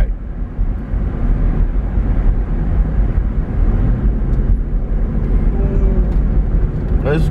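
Car interior at night while driving: a steady low rumble of engine and road noise fills the cabin, loud and continuous, with a faint squeak near the end.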